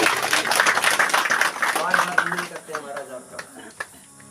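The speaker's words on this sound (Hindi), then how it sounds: "देवियों सज्जनों, और जोरदार तालियों से पंडित जी का स्वागत करिएगा।" Audience applause welcomes a priest at a Ram Katha religious gathering: dense clapping fills the hall for a couple of seconds, then thins into scattered claps and fades.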